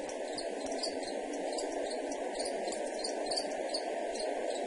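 Crickets chirp in a dense, continuous chorus, steady and fairly loud, with rapid pulsing trills and no voices.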